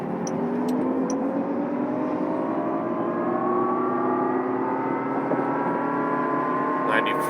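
A 2020 Jaguar I-PACE electric car accelerates hard, its motor giving a smooth, futuristic whine that rises steadily in pitch over a constant rush of road and wind noise.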